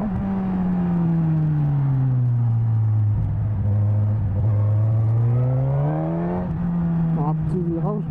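Suzuki GSX-S motorcycle on a test ride, its engine droning low then rising in pitch as it accelerates, with a rider's voice talking over the steady wind-buffeted engine note.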